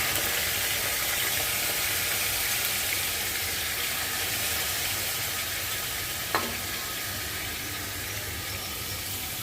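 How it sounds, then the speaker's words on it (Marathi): Mutton sautéing in hot oil inside a pressure cooker, a steady loud sizzle and hiss throughout with one brief clink of a utensil near the end. "कुकरमधलं तेल आपलं गरम झाले. आता आपण ह्याच्यामध्ये मटण टाकूया हे आणि चांगलं परतून घेऊया."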